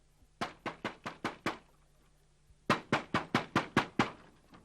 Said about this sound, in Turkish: Ben bu kapı çalınışını bir yerden hatırlıyorum ya